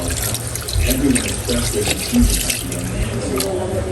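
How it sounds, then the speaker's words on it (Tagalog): Water runs from a tap into a pot holding pork mask, the head portion of a pig, being readied for boiling; a steady broadband wash continues throughout, with a person talking over it. "at lalagyan din lang po natin ng tubig"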